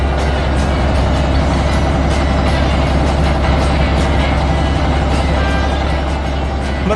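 Toy-like yellow bulldozer and orange dump truck from an animated construction scene drive back, a dense steady rumble of truck engine noise with mechanical clatter filling the whole stretch at close range.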